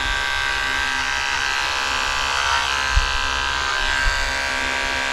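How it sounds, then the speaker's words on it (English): Electric clipper shaving the hair on a Cavalier King Charles Spaniel's feet, a steady close buzzing hum with a couple of brief bumps as the blade moves through the fur. "Especially if the hair is wet, it's harder to shave because the blade jams up in the wet hair"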